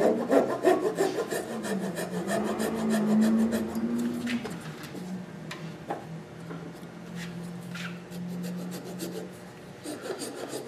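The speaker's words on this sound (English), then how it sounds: "I'm going to use a saw too just to get it off" A hand saw cuts through a wooden enclosed form to free it from a lathe, making close, steady rasping strokes over a low hum, with no talking.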